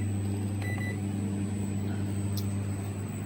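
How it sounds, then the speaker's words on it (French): An old, large, somewhat grimy microwave oven runs with a steady low electrical hum and drone, close and continuous, with a faint high whine above it and a brief soft tick partway through. "Alors ça, c'est un vieux gros micro-ondes."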